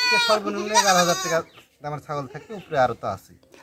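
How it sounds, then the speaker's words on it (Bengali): Goats at a livestock market bleat loudly and close by in a series of wavering calls, the first long and the rest shorter, with people talking in the background. "এই দুইটা যেটা ছাগল ধরছেন এই দুইটা দাম কেমন চাচ্ছেন"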